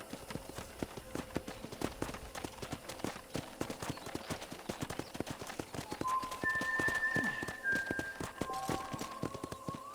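Rapid, rhythmic clip-clop of horse hooves trotting in the video game Red Dead Redemption, steady and close, with a brief faint whinny partway through.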